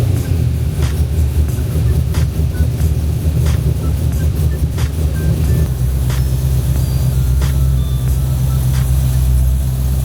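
A car fitted with drag radial tyres cruises on a test drive over Sydney roads, its steady, loud low engine and road drone continuous throughout with tyre rumble and no talking.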